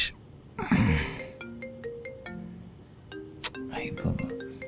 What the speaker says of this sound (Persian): ای بابا، باید این تلفن رو جواب بدم.